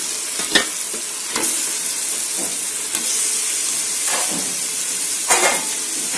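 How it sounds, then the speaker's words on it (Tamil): Chicken added to sizzling masala and separated oil for biryani, heard as a steady loud hiss of frying with a few louder stirring scrapes spaced through it, close and without talk. "இனி சிக்கன் சேர்த்திடலாம்"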